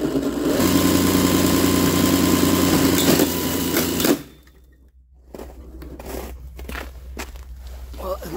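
An electric snowblower runs with a steady whirring drone that cuts off abruptly after striking a rock, followed by quieter clicks and rattles.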